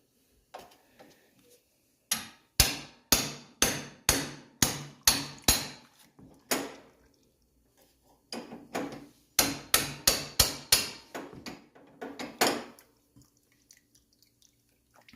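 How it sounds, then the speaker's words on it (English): Sharp metallic hammer strikes punch a hole into a Cub Cadet lawn mower oil filter in two steady runs of about a dozen blows each, close and loud, with quiet pauses between. "we're gonna put a hole in this filter."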